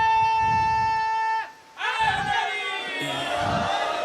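A crowd at a Shia religious gathering on 16 Safar chants slogans in loud, swelling bursts of massed voices, broken by a brief lull before the chanting rises again, with a steady tonal drone underneath.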